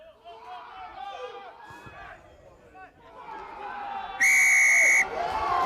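A referee's long, shrill final whistle ends a youth under-14 national rugby match between RC Suresnes and Rennes, blowing loud for about a second over a cheering crowd while a commentator talks excitedly throughout.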